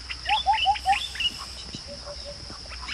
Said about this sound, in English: Yeah, birds are chirping there.